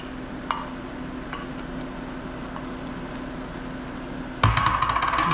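Pasta and garlic in a pan give a low, faint simmering sizzle with a few light clinks, then a sudden loud burst of hissing near the end, no voices.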